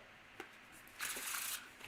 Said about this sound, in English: I started with a one-handed shuffle